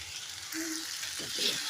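Masala fries in hot oil for a curry of drumstick and dosakaya cucumber, giving a soft steady sizzle over a short stretch with faint stirring.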